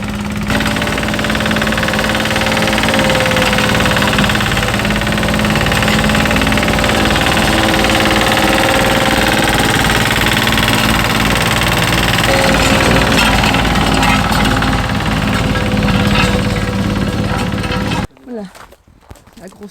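A large earthmoving machine at a big terracing job site works nearby: a loud, continuous diesel engine roar with heavy rumbling and knocking vibration, sustained throughout before cutting off abruptly near the end.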